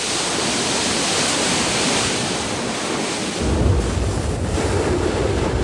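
Ocean surf where flowing lava meets the sea, a steady broadband roar of waves and wind that grows heavier and deeper in the final seconds, with no voices.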